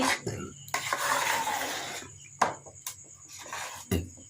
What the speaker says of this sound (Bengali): লাউ সিদ্ধ করে নিয়ে ময়দা চিনি দিয়ে ব্যাটার তৈরি করছি